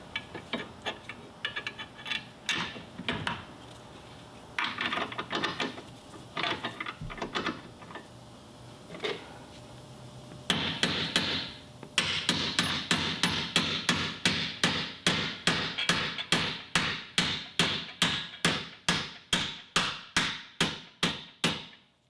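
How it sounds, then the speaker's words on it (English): A bolt on a 2002–06 Toyota Camry lower control arm gets hammered: scattered metallic strikes and shuffling at first, then a long, steady run of sharp, close, loud blows that quicken and ring out one after another. "You hammer it down until it hits the,"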